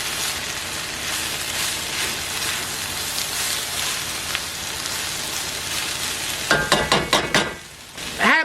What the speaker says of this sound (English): I just keep mixing it. I don't want it to stick to the bottom. I don't want it to burn.